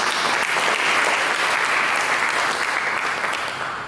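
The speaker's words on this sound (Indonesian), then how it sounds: "Berikan tepuk tangan bagi Yesus." Church congregation applauding together in a steady, dense wash of clapping that stays loud throughout and eases slightly at the end, with no talking over it.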